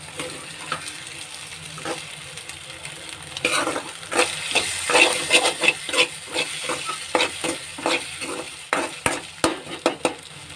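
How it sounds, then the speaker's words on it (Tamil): Egg sautés in a frying pan with a soft sizzle, joined by a run of brisk spatula scrapes and taps that grow louder and more frequent midway, heard close. "லைட்டாக வெந்ததுக்கப்புறமா வதக்குங்க"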